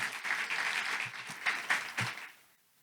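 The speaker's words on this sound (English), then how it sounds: "if everybody could just please give them a round of applause" A short burst of applause from an audience in a room at a State of the City and County event, steady clapping that swells slightly and then fades out.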